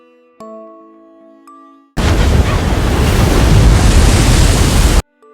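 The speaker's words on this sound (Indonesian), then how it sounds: "Badai yang begitu kencang membuat air lautan menerpa kapal Jessica hingga masuk ke dalam ruangannya." Storm waves and howling wind at sea crash against a small sailing boat in a film, breaking in suddenly as a loud, continuous roar of surf and spray after a quieter tonal opening, then stopping abruptly.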